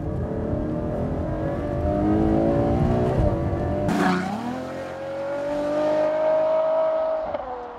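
A Ferrari FF sports car engine revs hard and climbs in pitch, drops briefly at a gear change with a sharp crack, then pulls up again in a rising howl.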